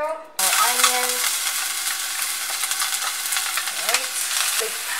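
Onions hit hot oil in a pan and break into a loud, steady sizzle of frying, continuous and close, with brief stirring scrapes and a voice speaking over it.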